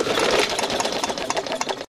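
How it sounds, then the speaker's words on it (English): A Briggs & Stratton push mower engine is cranked over during an ignition coil spark test, giving a rapid, loud, close mechanical whirring chatter that stays steady for about two seconds and then stops suddenly. "Okay, so now I'm going to roll the engine over."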